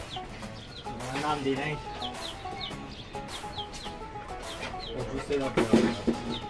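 Chickens cluck in a busy, irregular chatter close by, mixed with people talking over them.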